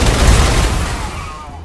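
Gunfire in the video game Wasteland 3: a short, loud, dense burst of shots that quickly tails off.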